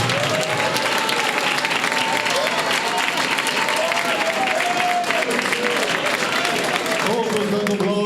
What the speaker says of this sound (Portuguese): Vamos orar. Palmas para Jesus.